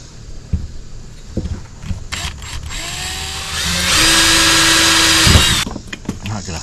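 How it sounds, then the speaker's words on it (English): A power drill whines through a metal plate, widening holes to number 21 size, rising to a sustained high-pitched grind before stopping, with brief clanks and handling noises around it. "drill the plate up, widen the holes to number 21"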